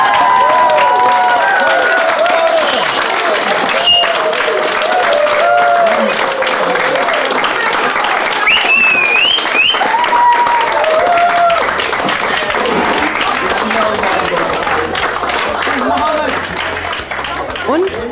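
A poetry slam audience of teenagers, parents, helpers and guests breaks into loud, sustained applause and cheering, a dense wash of clapping that fills the hall with scattered voices.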